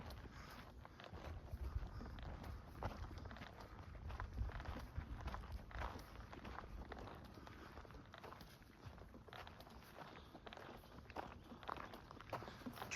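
Footsteps trudge steadily along a high-altitude Colorado trail at about 10,000 feet as someone hauls camping supplies, a continuous crunching tread close to the mic with gusts of wind buffeting it throughout.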